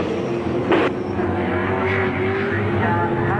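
A race car passes on a circuit during a race, its engine a loud sustained drone with a sharp burst as it goes by, heard alone without talk.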